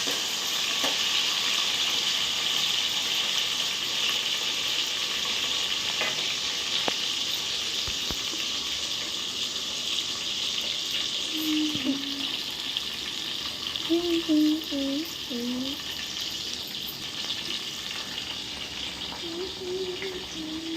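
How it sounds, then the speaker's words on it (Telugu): Food fries in a pan with a steady, close hissing sizzle throughout, with occasional clicks and faint voices murmuring briefly in the background. "ఇది కొంచెం ఫ్రై చేయాలి, చేయకపోతే బాగుండదు."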